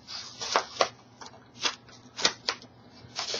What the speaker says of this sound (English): after you draw your charms, the next thing you want to do is just cut them out.